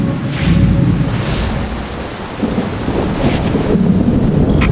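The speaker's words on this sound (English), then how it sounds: "The storm must be centered around this building." Thunderstorm in the mobile game Destiny Rising, heavy rain hissing throughout with low rolling thunder swelling and fading, loud and close with no voices.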